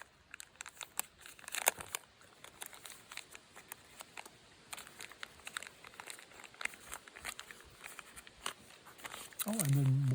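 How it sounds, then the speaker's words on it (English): Plastic packaging around a DJI Mic Mini gives off sparse, soft crinkles and crackles in scattered bursts during unboxing outdoors at Kejimkujik Park, with a voice speaking briefly near the end. "Oh, and then more plastic inside again."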